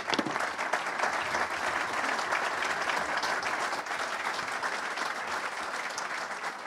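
An audience at the 24 Hours of Le Mans 2023 press conference applauds to welcome Tom Kristensen, a steady, full round of clapping that fills the room without talk.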